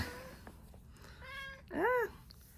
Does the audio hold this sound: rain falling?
no